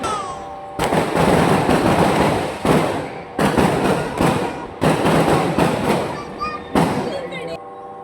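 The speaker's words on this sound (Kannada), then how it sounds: "ಅಷ್ಟೊಂದು ಪಟಾಕಿ ಹೊಡೆದು ಅಷ್ಟೊಂದು ಹೊಗೆ ಬಂದಿದ್ದು" Rapid crackling bursts of firecrackers going off in loud, dense volleys, with short pauses between flurries; no talking.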